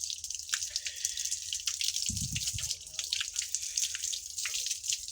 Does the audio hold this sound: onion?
no